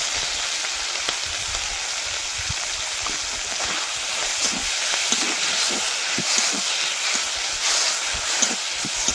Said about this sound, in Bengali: এবার এই তেলের মধ্যে পেঁয়াজ দিয়ে দেবো।